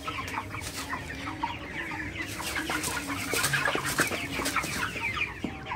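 Broiler chickens cluck softly while eating feed on a farm at night in winter, a steady flock chatter of overlapping short calls with occasional sharper squawks, moderately near.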